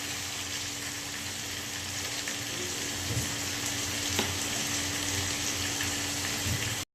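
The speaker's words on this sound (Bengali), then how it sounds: "সেদ্ধ করে রাখা মাটনটা দিয়ে দেবো। মাটনটা দিয়ে ভালো করে কষিয়ে নেব।" Boiled mutton fries and is stirred in hot oil in a pan, giving a steady, loud sizzle with a few soft scrapes along the way. It runs without any talking.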